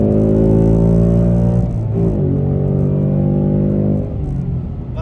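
A Ford Mustang Dark Horse engine idles with a deep harmonic rumble, then gets two quick throttle blips that briefly raise its pitch before settling back, loud and close.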